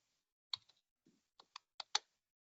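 Faint, sparse clicks of typing on a computer keyboard, about half a dozen separate keystrokes spread irregularly over a couple of seconds with no talk.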